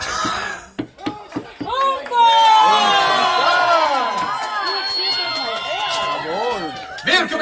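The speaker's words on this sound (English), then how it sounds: "Let's hear your cheers if you're cheering for Sir Michael!" Spectators at a renaissance fair horse tournament cheer for a knight, a loud surge of shouting and whooping voices that rises after a few sharp claps and stays strong, with a voice talking at the start.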